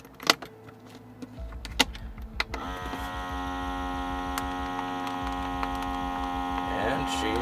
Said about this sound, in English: And she's vacuum sealing.